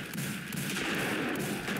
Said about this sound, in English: there's things shooting me and causing my imminent demise